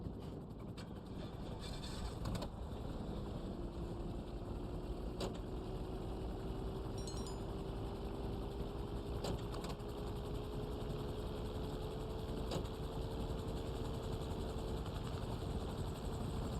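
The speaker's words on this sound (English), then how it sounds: "I guess I'll take the plane out then." A small two-seater plane's engine in GTA Online gives a steady, continuous drone with a slowly rising tone, held at an even, moderate level, with a few faint clicks and no talk over it.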